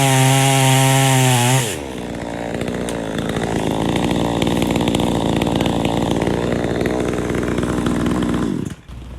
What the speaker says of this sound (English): So this is the Stump Grinder. Fairly simple piece of equipment.